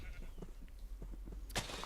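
Short bleats from sheep in Minecraft's farm pens, a few soft calls followed by one louder, brighter bleat near the end over a low steady hum.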